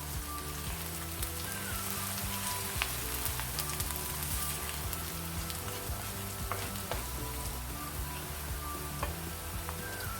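Garlic and ginger sizzle steadily in hot oil in a pan, a dense, continuous frying hiss with faint crackles throughout, close and fairly loud.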